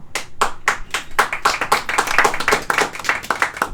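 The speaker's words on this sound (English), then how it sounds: "I want to applaud you" Comedy club crowd clapping at a stand-up show, a sparse handful of claps at first swelling into dense, close applause that carries on steadily.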